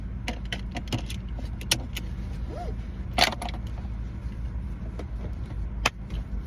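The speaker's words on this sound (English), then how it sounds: "we are going to record in the car while we are driving" A car driving, heard from inside the cabin: a steady low road and engine rumble runs throughout, with keys jangling and small rattles and clicks scattered over it.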